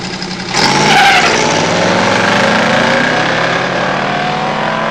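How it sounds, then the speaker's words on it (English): A 1970 AAR Cuda with a 340 six-pack V8 and automatic transmission launches at a drag strip, a loud engine roar surging up sharply and then holding a rising, sustained howl as the car pulls away down the track. "In the far lane, Jim Ziebert's 70 Cuda AAR 340 6-pack automatic."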